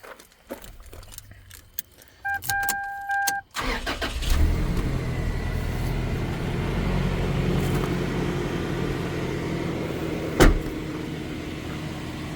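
Keys jingle and a chime beeps, then a 2000 Toyota Hilux pickup engine with 77,000 km cranks, catches and settles into a steady idle with one sharp click later on.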